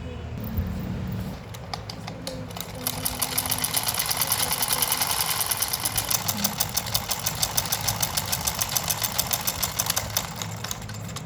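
A sewing machine stitches a pajama seam with a steady, rapid mechanical rattle that speeds up into an even run of stitches, close and loud.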